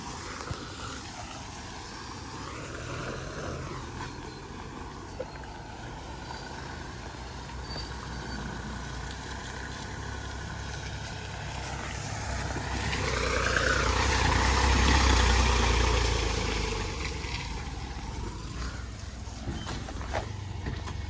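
A truck arriving to load sacks of chilli at a market idles with a low, steady diesel rumble that swells louder midway as it moves closer, with shifting engine tones and faint background activity.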